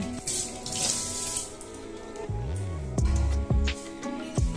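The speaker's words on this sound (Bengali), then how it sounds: "আগে হাতটা ধুয়ে নিই।" Tap water runs into a sink while hands are washed beneath it, a close, steady splashing stream broken by a few sharp knocks and a low humming tone.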